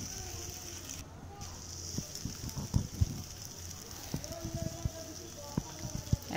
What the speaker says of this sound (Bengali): এখন এর মধ্যে নুডলসগুলো ঢেলে দিনু, এখন এটা খালি ভাজতে থাকবো যতক্ষণ পর্যন্ত না হয়